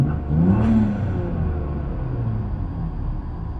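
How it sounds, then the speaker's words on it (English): A Volvo S60 T6 with a Snabb 3-inch turbo intake pipe revs hard, its turbo spooling up with a rising whir over a loud, steady engine rumble that then eases into a sustained drone. "You can hear the turbo spool up so much faster now."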